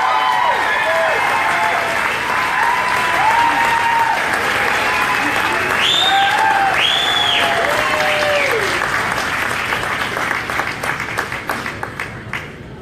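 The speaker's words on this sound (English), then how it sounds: "How about a round of applause as we bring to the stage, Brycen, Katolinsky!" Sustained, dense applause from a large audience at an Elvis tribute festival, near and loud throughout with faint cheers and voices mixed in, tapering off toward the end.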